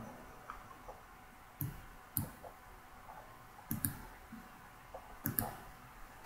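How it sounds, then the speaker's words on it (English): Mouse clicks on a website's agree and register buttons, a handful of quiet, crisp single and double clicks spaced a second or so apart against a faint room background. "I click on agree and click on register"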